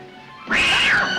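A black cat lets out a single loud, drawn-out meow that rises and then falls, coming in abruptly after a quiet moment in a horror film trailer.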